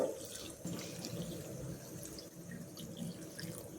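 Water poured into a pot of dates, tamarind and jaggery for ragda pattice chutney, a faint, steady splashing pour that keeps going for a few seconds with no talking.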